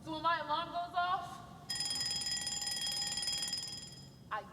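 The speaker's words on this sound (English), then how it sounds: "So when my alarm goes off," An alarm clock goes off on a Sunday morning, a steady bright electronic ringing that sets in after a brief warbling tone and carries on loud and unbroken for several seconds, stopping abruptly near the end.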